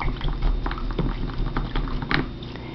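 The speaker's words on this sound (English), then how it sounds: "I'm going to rinse this brush out." A paintbrush swished and rinsed in a water cup during flower-and-butterfly painting, giving close, wet splashy sloshing with small clicks of bristles against the container, steady for a few seconds without talk.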